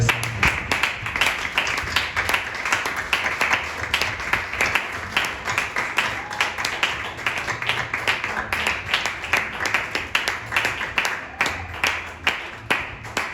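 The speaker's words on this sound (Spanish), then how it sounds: "Demos un fuerte aplauso al Señor." A church congregation claps together in a dense, steady roll of hands that carries on for the whole stretch, with some voices mixed in beneath the clapping.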